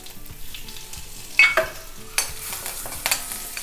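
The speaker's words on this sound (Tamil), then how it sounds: "கடாய் வச்சுருக்கேன், எண்ணெய் விட்டுருக்கேன், அதை காஞ்செடுத்து கடுகு, கொஞ்சம் உளுத்தம் பருப்பு, பெருங்காயம் பொடி கொஞ்சம்." Mustard seeds, urad dal and asafoetida sizzling in hot oil in a kadai, a steady frying crackle with a few sharp pops and stirring clinks, close and alone without talk.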